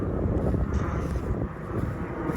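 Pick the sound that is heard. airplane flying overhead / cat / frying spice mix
airplane flying overhead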